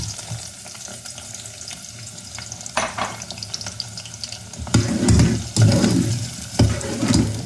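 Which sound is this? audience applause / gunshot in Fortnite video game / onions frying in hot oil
onions frying in hot oil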